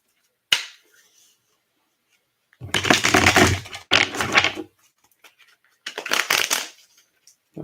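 Tarot cards are shuffled in three quick riffling bursts, crisp fluttering clicks separated by short pauses, after a single sharp tap at the start.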